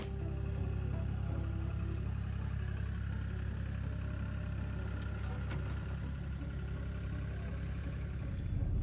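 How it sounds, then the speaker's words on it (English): A vehicle engine runs steadily at low idle on an off-grid homestead, a constant low rumble heard alone with no talking. "I need to go move my vehicle too."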